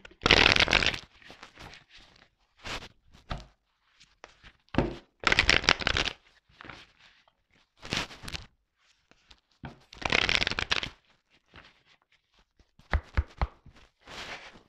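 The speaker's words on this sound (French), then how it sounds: "je prends encore un peu de carte pour voir" Tarot cards shuffled and drawn by hand in repeated brisk bursts of riffling and sliding, separated by short pauses, close and fairly loud with no talking.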